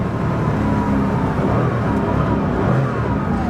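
A restored 1980 Porsche 911 SC Weissach engine revs toward the red line, a loud, close, sustained engine roar holding steady throughout the short stretch.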